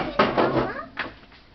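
A fallen, heavy kitchen cabinet door from a built-in kitchen is lifted down and handled, with a few close wooden knocks and rustling bumps.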